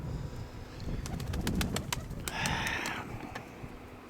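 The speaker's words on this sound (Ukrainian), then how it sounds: "Оце я люблю таких голубів, що стоять над хатою." Soft pigeon cooing outdoors with pigeons hovering over a house, a brief flutter and a few faint chirps over a steady low background hum.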